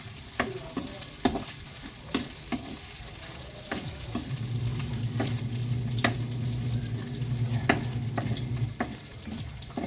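Onions frying in a pan for pansit, a steady sizzle with clicks of a utensil stirring and scraping at intervals, close and fairly loud, with no talk.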